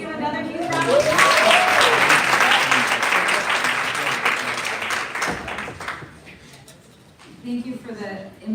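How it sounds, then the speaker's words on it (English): A conference audience breaks into loud, sustained applause that swells quickly and then fades out, with a voice returning at the end. "Let's give another huge round of applause."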